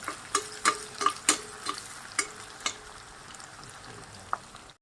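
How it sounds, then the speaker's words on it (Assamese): Onions frying in oil in a pan for a local meat dish, with a faint steady sizzle broken by a handful of sharp scraping stirs and clicks, louder early on and thinning out toward the end. "পিঁয়াজ দিলোঁ, পিঁয়াজখিনি অলপমান ফ্ৰাই কৰি লওঁ"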